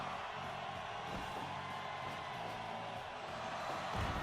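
Arena crowd noise from a wrestling video game deathmatch on PS4, a steady broadband roar of cheering with scattered whoops held at a constant level throughout.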